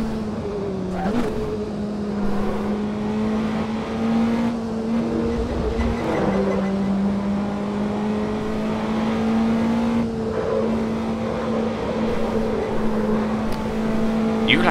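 A Praga R1 race car's engine drones loudly and steadily while driving, the pitch holding fairly level with brief dips and rises as it revs, close and continuous throughout.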